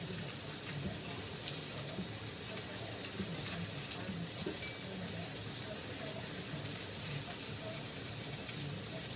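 Butter sizzling in a hot pan, a steady soft crackling hiss that holds evenly throughout, fairly quiet and without talk.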